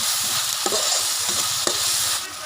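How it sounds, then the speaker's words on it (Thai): Eel stir-fried with curry paste and kaffir lime leaves sizzles loudly and steadily in a pan, with two brief utensil scrapes cutting through the close frying noise. "แล้วมะกรูดลงไปครับผม แล้วก็ผัดให้เข้ากัน"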